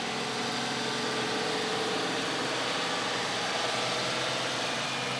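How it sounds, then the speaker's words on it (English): A Farmall 806 tractor engine runs steadily in a county fair parade, a continuous loud rumbling drone with constant broadband noise throughout and no clear speech. "An 806 Farmall. I've driven those before. Really a nice tractor."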